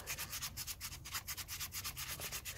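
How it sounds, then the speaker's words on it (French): Steady back-and-forth rubbing of green abrasive paper on battery terminal clamps, a close, even rasping rhythm of about five to six strokes per second, alone. "moi je vais frotter juste comme ça"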